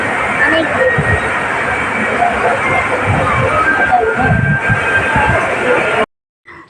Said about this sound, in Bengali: ট্রেন আমাদের চলে এসেছে